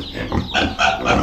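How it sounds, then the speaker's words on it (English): A pig in a Bali village grunts and snorts at close range in three or four rough, loud bursts over about a second, with short gaps between them. "So this is Uncle Pig, and this is his pig"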